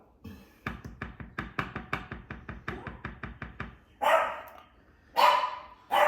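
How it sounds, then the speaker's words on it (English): Several dogs bark in a rapid, steady volley at close range, followed by two bursts of rushing water or hiss from an outdoor water tap. "There go the dogs."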